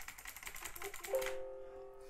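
Rapid clicking of a Razer computer keyboard in a home studio setup, a dense run of keystrokes, close and moderately loud, ending in a short sustained tone; no talking.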